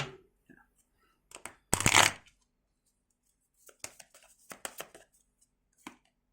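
Tarot cards being shuffled and drawn by hand: a loud riffle burst, then scattered soft flicks and taps of cards close by, with quiet pauses between.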